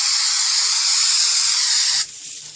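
A steady, loud aerosol hiss from a can of Super 77 spray adhesive onto paper for about two seconds, then it cuts off, leaving faint handling noises.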